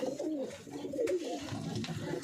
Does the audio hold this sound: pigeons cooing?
yes